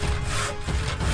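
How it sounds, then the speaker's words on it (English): A hand saw cuts through wood in quick, rasping back-and-forth strokes, close up and steady, with no talking. "A wood saw."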